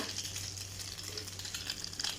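Eggs fry in a hot pan for a breakfast sandwich, giving a steady, close sizzle with soft crackling throughout and no talk.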